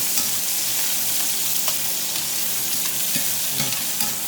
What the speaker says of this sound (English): We need to add these veggies to cool down the oil. So go ahead, add your stuff.